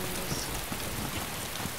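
Steady rain falls in the survival video game DayZ, a dense and even wash of hiss with faint scattered drops, heard alone at constant loudness.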